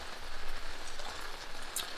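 Rain falls steadily on a camp awning at Fir Creek Camp in Idaho, a soft, even patter of drops close by with no voices.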